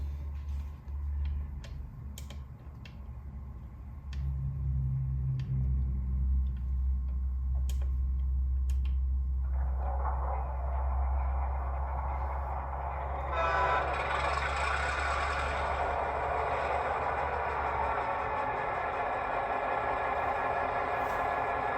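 An HO scale model Conrail diesel locomotive with onboard sound starts up on a shelf layout: faint ticking first, then a low idling rumble builds, followed by layered mechanical hiss and whine growing louder and fuller.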